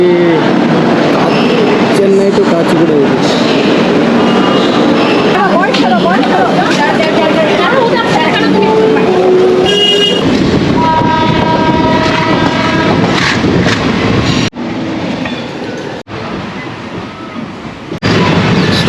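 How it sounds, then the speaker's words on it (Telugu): A train rumbles loudly into a railway station, a horn sounding partway through over constant mechanical roar and clatter, with people talking in the background. "సో మా ట్రైన్ రానే వచ్చింది"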